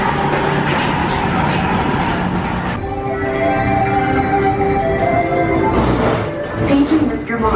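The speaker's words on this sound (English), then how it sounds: "Look at, see, there's the train right there." A train rolls past near the TRON construction site at Magic Kingdom, a steady rumbling clatter that shifts partway through, with people talking over it.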